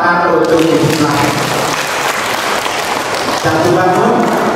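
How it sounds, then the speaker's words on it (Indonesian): An audience at a ceremony applauds, a dense continuous clapping that fills the whole clip loudly, with a voice speaking over it. "Sekali lagi kita tepuk tangan untuk Ibu Flavi."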